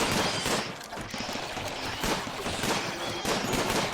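Lee Enfield rifle fire in the Rimworld video game, a dense, continuous barrage of overlapping shots and impacts running throughout, loud and busy with no clear pauses.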